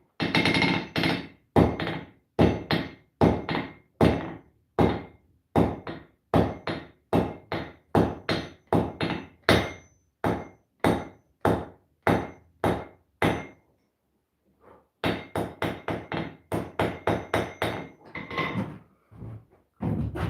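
Heavy hammer blows strike hot steel on an anvil at a forge while a short taper is drawn, a close, loud run of rapid evenly spaced strikes with a brief pause before the pounding resumes.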